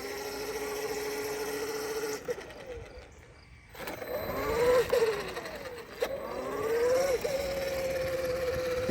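A Traxxas X-Maxx RC truck's belt drive runs in several bursts, its motor and belt giving a whining tone that rises and falls with the throttle between brief quieter gaps.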